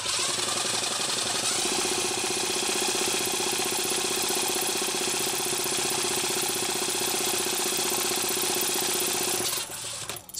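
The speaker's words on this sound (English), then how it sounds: "I'm going to spin this over with the drill." A power drill whirs loudly and steadily for about eight seconds, spinning over a small engine with a rapid mechanical chatter, then stops abruptly.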